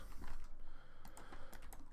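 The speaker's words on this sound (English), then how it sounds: "So, if I just type in bridge" Someone types a search on a computer keyboard, a fast, continuous patter of close key clicks lasting a couple of seconds with no talking.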